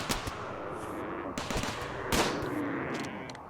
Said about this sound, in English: But I have some plasteel mini turrets.